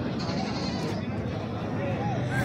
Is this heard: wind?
no